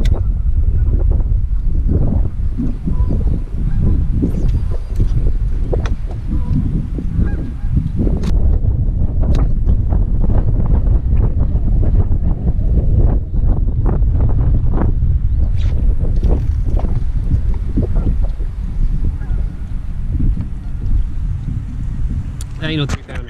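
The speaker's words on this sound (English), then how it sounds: "the wind's blowing so hard" Strong wind sweeps across Lake Chickamauga during bass fishing, a loud, constant low rumble of gusts buffeting the microphone, with voices talking over it throughout.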